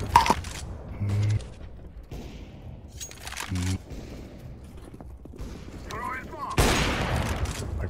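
Scattered gunfire bursts in a shooter video game, several sharp shots and short volleys spaced across the clip, with a louder noisy burst near the end amid game sounds and faint voice.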